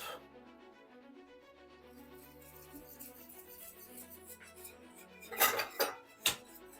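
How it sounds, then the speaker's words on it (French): Caramel mixed with cornstarch and water is stirred in a pan. A utensil scrapes and rattles softly, then three sharp metallic clanks ring out near the end, with no talking. "on va remuer avec la maïzena jusqu'à ce que ça épaississe"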